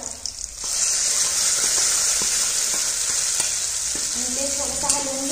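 Tur dal poured into hot tempering in a pan, setting off a loud, steady sizzle that starts abruptly and continues with crackling and a few faint clinks.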